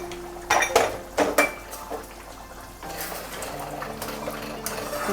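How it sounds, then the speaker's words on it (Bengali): A lid comes off a cooking pot of chicken shahi korma, sharp metallic clanks and clinks up close, then a steady soft bubbling simmer underneath. "8 থেকে 10 মিনিট পরে আমি ঢাকাটাকে এবার খুললাম।"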